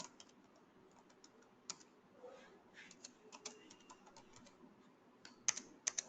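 Fingers type on a computer keyboard while an SQL query is written, soft irregular clicks and bursts of keystrokes close by, a few louder taps near the end, with a quiet room behind.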